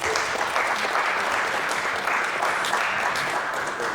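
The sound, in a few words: audience applause for the Estonian military orchestra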